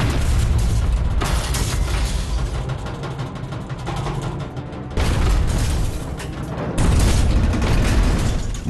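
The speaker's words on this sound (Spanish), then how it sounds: "Otra serie de cargas de profundidad." Deep, heavy depth charge explosions roll and rumble one after another, loud and sustained, with surging low thunder and no voices.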